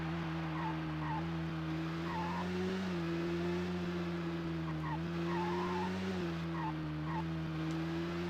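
Tires skid and slide in the racing video game GP Challenge, a continuous engine drone with steady tonal hum and faint squealing chirps running throughout, moderately loud with no talk.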